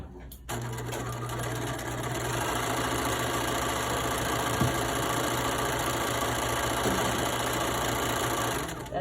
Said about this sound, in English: you're going to put the pocket under and sew it about 1/8 of an inch from this edge over here